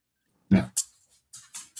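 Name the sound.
dog barking or whimpering during a conversation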